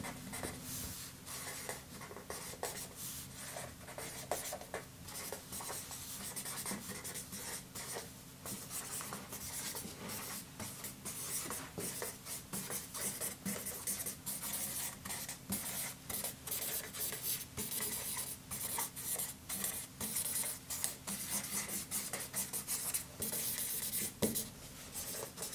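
A pen scratches steadily across paper, drawing a scruffy beard in quick, continuous strokes that sound close and fairly quiet, with no talking.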